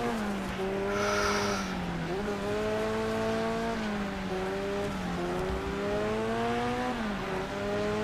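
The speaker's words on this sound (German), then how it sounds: "Ja, hier heißt es halt schön driften." Engine drone and screeching tires from a car drifting through corners in the Next Car Game racing game, the revving pitch rising and dipping in waves, steady and loud throughout with a brief high squeal early on.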